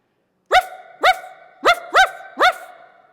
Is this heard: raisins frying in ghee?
no